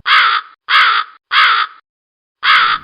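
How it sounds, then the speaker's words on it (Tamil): Crows caw loudly and close by from a tree branch, with three evenly spaced harsh caws, a short pause, then a fourth. "அந்த மரக்கிளையில் உட்கார்ந்திருந்த காகங்கள் சத்தம் போடவே"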